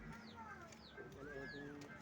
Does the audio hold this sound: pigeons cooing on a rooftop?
yes